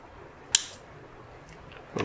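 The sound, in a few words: cutter pruning a branch of a Ficus virens bonsai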